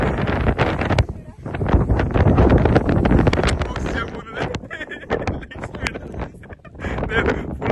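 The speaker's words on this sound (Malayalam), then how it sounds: "അത്രയ്ക്ക് കാറ്റുണ്ട്." Strong gusts on Gozo island, Malta, batter the microphone in loud, uneven bursts while people talk underneath the roaring wind.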